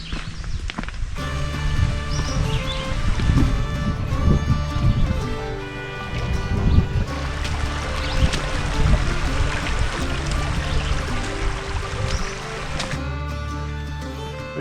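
Footsteps cross a creek on a mountain trail near an abandoned mine, steady crunching and splashing steps close by over a continuous bed of rushing water throughout.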